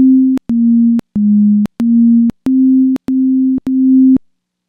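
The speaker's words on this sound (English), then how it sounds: "PD will play a short 500 millisecond long musical note." A Pure Data patch plays short synthesized notes, seven steady sine-like beeps of about half a second each. Every beep starts and stops with a faint click, and they repeat in an even rhythm with brief gaps between.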